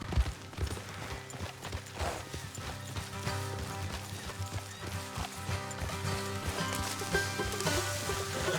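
Horses' hooves clip-clop at a steady trotting rhythm in Red Dead Redemption 2, close and continuous for several seconds over a low rumble, with a brief neigh-like sound and no talk.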